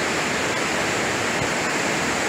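River water flows briskly at Hamilton Branch near Lake Almanor, a steady, loud broadband rush with no pauses or voices.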